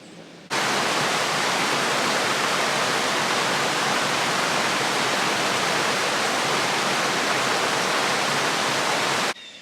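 Water pouring over a man-made dam in the woods, a loud, steady, broad rushing roar that starts abruptly and holds unchanged for about nine seconds before cutting off, with no voices.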